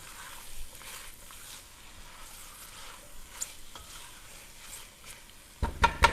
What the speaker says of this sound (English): So give that a little stir.